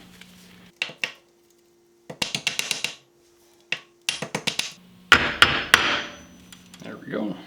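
Repeated metal-on-metal hammer strikes drive a straight tool, used in place of a punch, against a PS90 barrel shroud pin: close, sharp clusters of rapid blows separated by pauses, ending in a louder ringing burst.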